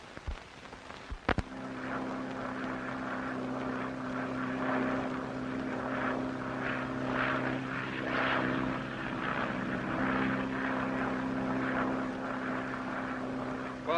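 A propeller airplane engine drones steadily and loudly throughout, preceded by a couple of sharp clicks, in a 1937 aviation film setting, with no talk.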